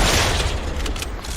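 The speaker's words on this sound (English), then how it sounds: "Artillery fire!" Artillery fire booms in a World War One trench custom game mode of Fortnite, a short dense burst of heavy rumbling blasts, loud and close.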